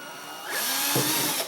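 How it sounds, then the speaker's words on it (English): A power drill bores a hole through an aluminum soda can for an alcohol stove, a short high whine that rises as the bit bites and cuts through the thin metal, loud and close. "I'm going to go 180 degrees all the way around and drill another hole straight across from that hole"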